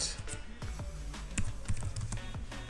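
Fast, quiet keystrokes on a computer keyboard in a terminal session, a short irregular burst of close clicks with no talking.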